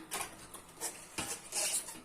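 Several clattering knocks of cabbage dropping into a metal cooking pot, irregular and close, with a brief splashy rattle near the end.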